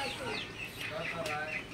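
Broiler chickens about 46 days old and over 4.5 kg, kept in Faridpur, cluck and call in a steady run of short, overlapping notes close by, with faint background sound throughout.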